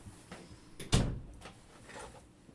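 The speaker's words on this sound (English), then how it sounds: "Sorry, I had to close my door." A room door is pushed shut in a home workspace, giving one solid thud with a brief rattle, surrounded by faint rustling and handling noises.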